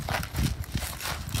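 A finished bridle horse steps its hindquarters around, hooves thudding in a few close, uneven clip-clop footfalls on the ground.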